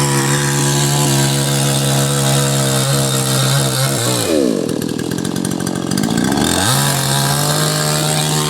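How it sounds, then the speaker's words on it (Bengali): A chainsaw cuts down a tree, its loud, close engine droning steadily, then dropping in pitch and straining for a couple of seconds as it bites into the wood before revving back up. "গাছটা মেশিন দিয়ে কাটছে মেশিন দিয়ে মেশিন দিয়ে গাছটা কাটছে"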